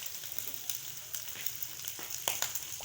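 Chicken frying in a pan gives a steady, soft sizzling hiss with scattered small crackles and pops, fairly quiet and with no voices.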